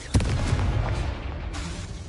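The Expelliarmus spell in Hogwarts Legacy goes off with a sharp, loud blast followed by a rumbling, crackling burst that fades, and a second whooshing hit near the end.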